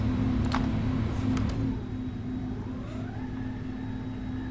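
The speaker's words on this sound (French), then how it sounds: "Alors on a le bruit qui va avec, quand les volets se déploient." Flaps deploying on an Airbus A310-300 in Microsoft Flight Simulator 2020, a whirring mechanical motor tone rising gradually in pitch over a steady engine hum, with a couple of brief clicks before it.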